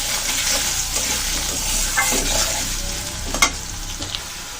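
Potatoes fry in a pan for a lightly spiced gourd dish, a steady broadband sizzle with a few scraping stirs and one sharper clack near the end, close and continuous with no voices.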